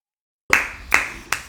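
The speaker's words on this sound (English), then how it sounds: "Round of applause, people." After a moment of silence, three sharp separate hand claps ring out at an uneven pace, close and crisp, with no crowd joining in.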